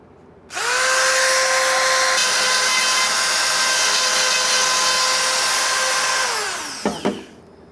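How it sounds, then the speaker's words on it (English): Dremel rotary tool grinding into the gullet of a bandsaw blade, a loud high-pitched whine that runs steadily for about six seconds, then winds down with a brief scrape at the end. "You probably see I'm really concentrating the effort, the grinding effort in the gullet."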